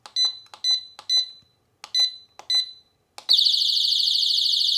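Mosaic MH306V alarm unit sounding its alarm tone: six sharp chirping beeps in an irregular pattern, then a loud continuous high-pitched electronic tone that keeps going, close and alone.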